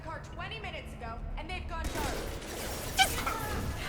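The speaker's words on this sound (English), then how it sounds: "Immediately start shooting" Gunfire erupts in the video game Mass Effect 2 as a burst of rapid shots with one sharper crack, arriving after a voice talks over quieter game sounds and continuing under the action.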